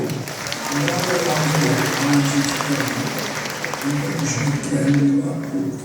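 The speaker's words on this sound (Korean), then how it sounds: "박수" Crowd applause during a political speech about an economic delegation to Saudi Arabia and Qatar, a broad sustained clatter of hands with a voice talking over it and a low hum beneath.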